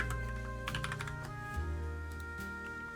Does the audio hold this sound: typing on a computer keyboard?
yes